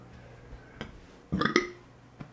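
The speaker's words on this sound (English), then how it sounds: "got a burp" A single throaty burp rises and cuts off in a quiet room, standing alone without talk, with a few faint softer sounds before and after it.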